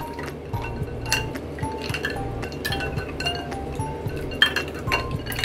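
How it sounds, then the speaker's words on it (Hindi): A spoon stirring Rooh Afza sharbat in a glass, a quick run of bright clinks and taps against the glass, close and repeated over a soft swirling background. "इसको अच्छे से चलाते जाना है।"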